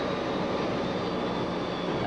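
Steady broadband roar of a military A-6 jet aircraft engine, a continuous, even rush without changes in pitch or loudness, heard alone with no voices.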